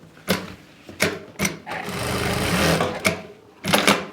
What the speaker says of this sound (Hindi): चारों निशानों पे इसी तरीके से सिलाई लगा लेनी है।